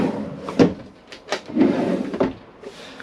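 Large wooden cupboard doors in an Auto Trail Expedition C71 motorhome knock and thud open and shut several times at close range, with short irregular bumps and a brief scraping slide.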